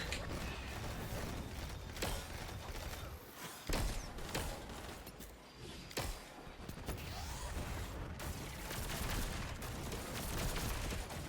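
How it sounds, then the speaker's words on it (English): Distant gunfire in Destiny at long range, a faint crackle of rapid shots and mechanical clicks spread through a dense, steady wash of game noise. "Shooting from this far away is just really difficult"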